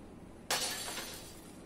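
Something breaks and shatters in the video game Little Nightmares 2: a sudden loud crash of breaking glass that then fades into a scattering tail over a low background hum.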